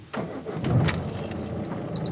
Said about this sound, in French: je vais démarrer le moteur pendant que je vous parle